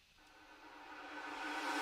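A reversed snare drum sample from an electronic dance track, swelling gradually from a faint hiss to a loud, bright noisy rush that builds steadily to the end.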